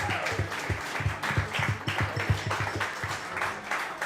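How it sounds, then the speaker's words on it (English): A small group in a pub applauds the parents and guardians of a Baldwinsville Bees lacrosse team, a brief, fairly faint patter of clapping with a few scattered louder claps. "can we clap it up for the parents and all of the guardians?"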